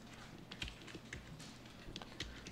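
Computer keyboard keys pressed in quick scattered taps, soft and close, forming a brief irregular series of clicks against a low room hum.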